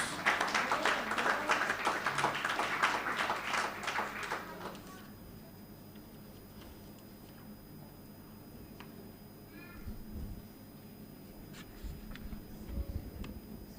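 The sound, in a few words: church congregation applauding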